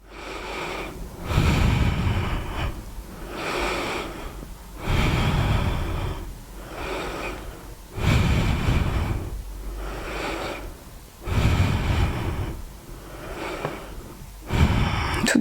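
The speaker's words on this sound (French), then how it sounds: "Et on respire. On est ici pour 5 respirations." Slow, deep breaths during a yoga locust pose, about five loud close inhale-exhale cycles with audible nasal airflow and no talk.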